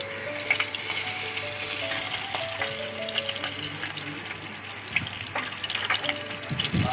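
Asafoetida (hing) sizzles in hot oil in a pan on an Inalsa Elite induction cooker, a steady hissing fry with soft clinks and faint background hum throughout, no talking.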